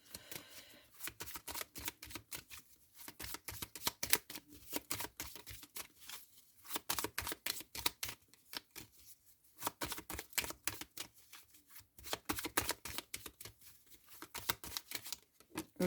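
Oracle cards are handled and shuffled at close range, a faint series of quick papery riffles and taps in repeated bursts with short pauses between them, no voices.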